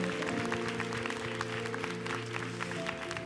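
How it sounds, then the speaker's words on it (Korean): Applause at a church Sunday worship service honoring a missionary preacher, heard as a steady wash of clapping from the congregation under sustained organ or keyboard tones, with no clear speech. "우리 선교사님께 우리 한번 사랑과 존경의 박수"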